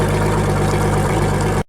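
An outboard boat engine runs while being flushed with fresh water, a steady, close, loud idling drone with a low throbbing hum that cuts off abruptly at the end.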